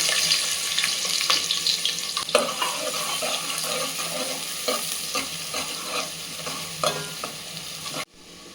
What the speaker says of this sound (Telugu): మటన్ ఫ్రై చేద్దాము వేస్తున్నానండి ఓకే ఇప్పుడు ఆనియన్ వేస్తున్నానండి